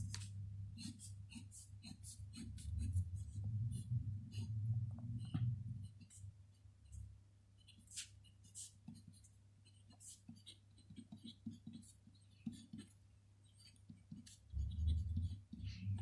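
Jinhao 92 fountain pen scratching and gliding across paper, close and quiet, with soft intermittent strokes and faint clicks over a steady low hum.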